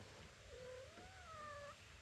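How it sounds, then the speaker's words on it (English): A cat gives a single drawn-out, rising and falling meow lasting about a second, faint against a steady background hum. "Hey, cat. Hey, kitty cat."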